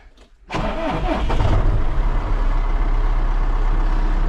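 Tractor engine cranks briefly and catches, then settles into a loud, steady, rumbling idle close by.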